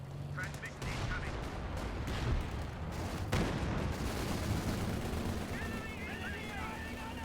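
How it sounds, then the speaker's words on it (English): Panzerwerfer rocket artillery firing in Company of Heroes 2, heard as a dense, continuous roar of launches and explosions with sharp bursts, while a caster talks over the battle din. "I have 3 Panzerwerfers. Yay, rockets! Get ready. Fire."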